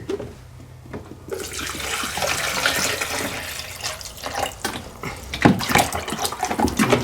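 Warm soapy water runs steadily from a tap into a container for cleaning Ford 800 tractor carburetor parts, a continuous close splashing hiss that swells and surges, with no talk.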